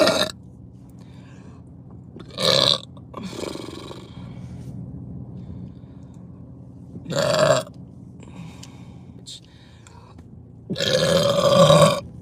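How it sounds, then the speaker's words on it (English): Several loud, deep burps after drinking Sprite, separate rumbling bursts spaced a few seconds apart with quiet gaps between, the last one long and drawn out. "That's the Sprite burp right there."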